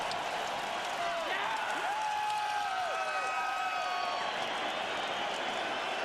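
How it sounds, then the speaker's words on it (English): Huge arena crowd of about 55,000 at a UFC fight roars and cheers for Canadian fighter Rory Macdonald, a loud, continuous wall of noise with whistles and shouts rising through it for the whole stretch. "Cheering on Canada's own Rory Macdonald."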